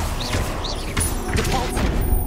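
A Confringo fire spell bursts in Hogwarts Legacy combat, heard as sharp blasts and thuds among other spell effects with a swooping whoosh, while a person talks over the game sounds.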